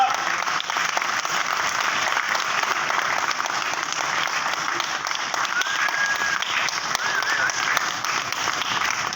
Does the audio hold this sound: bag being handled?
no